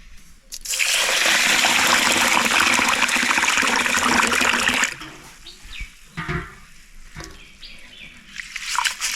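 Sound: rinsing ration rice in water

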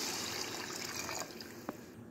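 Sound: water poured into rice in pot

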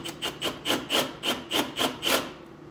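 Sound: chamfering edges

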